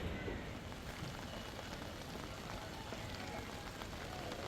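Heavy rain falls in Bhiwandi, Mumbai, over waterlogged market streets, making a steady, dense wash of drops that stays fairly faint and unbroken throughout.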